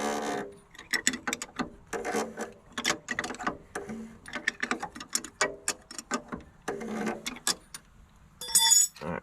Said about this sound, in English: now I'm going to put the spanner wrench on the bottom ring.